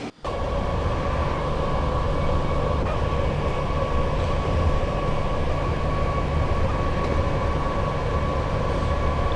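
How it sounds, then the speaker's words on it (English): A very long double Class 87 electric-hauled Freightliner train runs in Train Sim World 6 on the West Coast Main Line at Shap, with a loud continuous rumble and hum throughout. "A very, very long train."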